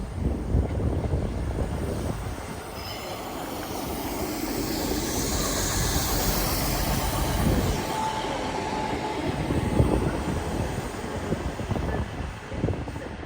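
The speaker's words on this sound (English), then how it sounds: "now approaching will be the 1047 East Midlands Railway service to Norwich with the newly liveried 158866" East Midlands Railway Class 158 diesel unit 158866 in new livery pulling into Peterborough station on the East Coast Main Line, a steady loud rumble and wheel noise with faint squeal, sustained throughout.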